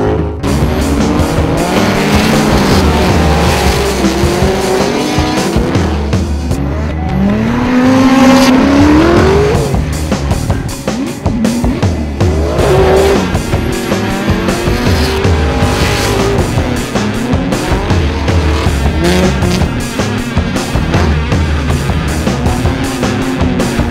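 Drift cars at a 2008 Formula Drift Tour event in Englishtown, New Jersey, with loud sustained tire squeal and skidding over revving race engines, the pitch swooping and wavering as the cars slide past up close.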